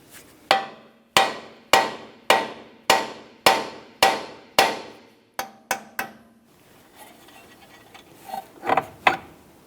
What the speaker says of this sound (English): just use a hammer and give this a couple taps